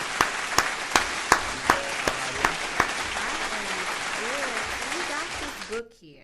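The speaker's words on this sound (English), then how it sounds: "Clap it up. Clap it up." An audience claps for a guest on a talk show, with sharp individual claps at first and then steady applause that fades out, while a voice speaks over it.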